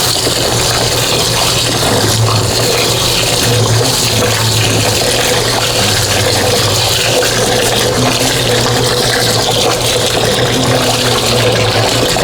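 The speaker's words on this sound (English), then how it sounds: "I'm going to wash the rice now." Rice being washed in water before egusi sauce for Nigerian fufu, a steady continuous watery rush and swishing with no talk, fairly loud and close throughout.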